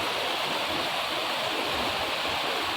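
Manthoka waterfall in Skardu, with a cold, clear stream flowing over rocks, a dense, steady roar of falling and rushing water, loud and unbroken, with no voices.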